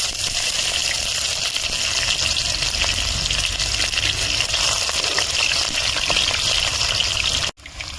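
Chopped onion fries in hot oil already seasoned with whole garam masala and bay leaves, giving a loud, continuous hiss and sizzle close by for several seconds, then cutting off abruptly near the end.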